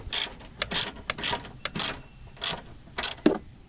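A ratchet wrench clicks in repeated short bursts while a 10 mm bolt is tightened during a starter replacement on a Toyota Camry, close and fairly quiet with brief pauses between strokes.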